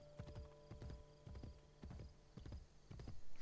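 Horse hooves clip-clop in a steady, even trotting rhythm in the video game Assassin's Creed Brotherhood, fairly quiet and heard alone with no talking.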